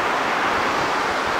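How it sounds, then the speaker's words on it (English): Loud rushing water outdoors, a dense continuous roar close to the microphone with no pauses or voices. "Sorry if the water's really loud"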